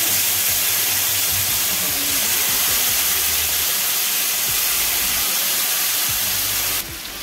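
Marinated chicken drumsticks for tangdi kabab sizzle in hot mustard oil, a steady, loud broadband hiss that runs without a break for the whole stretch, with small low bubbling pops underneath.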